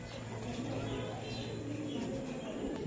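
Low, murmuring coos from fancy pigeons such as Spanish pouters and homers, a steady throaty burble over background hum, fairly close and continuous.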